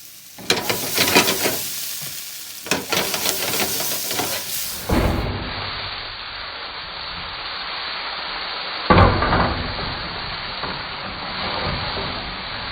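Eggplant, fingerling potatoes and Brussels sprouts fry on a gas stove, crackling and sizzling steadily with bursts of stirring and scraping, loud and close throughout, no voices.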